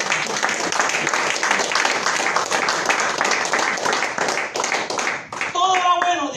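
Applause in a church congregation, dense rapid clapping from many hands sustained for several seconds before breaking off, followed by a brief musical tone.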